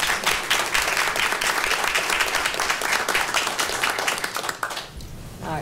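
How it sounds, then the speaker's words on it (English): An audience at a county board of commissioners meeting applauds, a dense, steady burst of clapping that tapers off near the end. "All right, let's all applaud them one more time."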